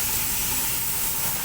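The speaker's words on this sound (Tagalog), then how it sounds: "brake cleaning." Brake cleaner sprays onto the brakes of a vehicle during preventive brake maintenance, giving a continuous, close, steady hiss that lasts the whole moment.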